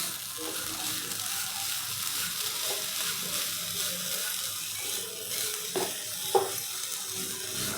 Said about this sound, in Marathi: आता हे मिश्रण आपण सगळं हलवून घेऊया